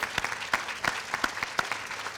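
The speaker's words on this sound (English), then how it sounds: "Following more well-deserved applause" Audience applause at an 8th grade promotion ceremony, a steady patter of claps with a few sharper individual claps standing out, moderately distant in a large room.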